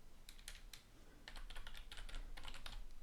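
Someone types on a computer keyboard, a quick run of soft, close key clicks that thickens into a faster burst partway through, with no talking.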